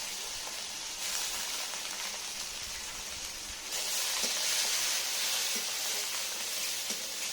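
Shrimp fry in oil in a pan, a loud, continuous sizzle and hiss close by that swells brighter partway through as the shrimp hit the hot fat, with occasional stirring clinks.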